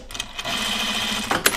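A sewing machine tacks backpack fabric in one short, steady buzzing run close by, with a few clicks and knocks as it starts and stops.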